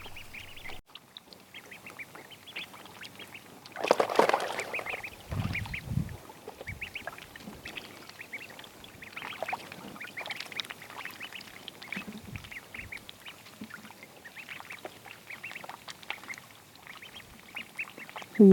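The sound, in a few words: ducklings quacking while playing in water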